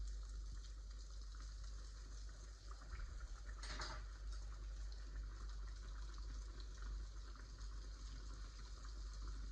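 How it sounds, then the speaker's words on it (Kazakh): Pirozhki dough pieces frying in hot oil over medium heat give a steady, quiet, even hiss throughout, with one brief louder splash partway through. "Қызып тұрған майымызға қамырларымызды салып пісіріп аламыз пирожкимізді."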